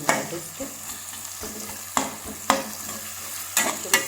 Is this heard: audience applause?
no